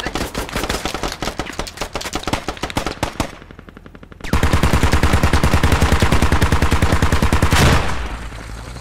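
Rapid automatic gunfire in the military shooter Squad, bursts of tightly spaced shots that cut out briefly, then return as a louder, sustained stream before fading.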